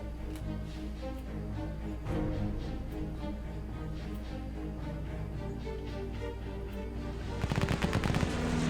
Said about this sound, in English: I'm gonna launch an attack on the airfield.